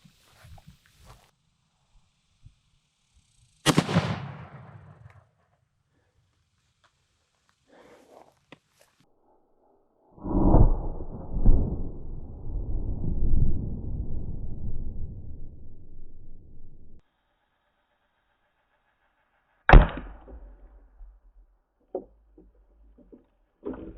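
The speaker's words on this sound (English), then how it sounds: "We got our AR-15 here. We're going to shoot this tannerite real quick." Single sharp AR-15 rifle shot outdoors, followed by a long rumbling boom as a tannerite explosive target detonates and fades away, then another sharp crack; no talking.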